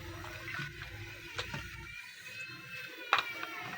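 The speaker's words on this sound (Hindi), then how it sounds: "ये इस बाटी में आग का पानी जा रहा है जी।" Acid liquid pours steadily into a bowl of saltpetre, a continuous close wash of splashing flow lasting several seconds, with a few sharper spatters near the end.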